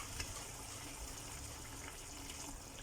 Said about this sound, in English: Now to this, I'm going to add in my water.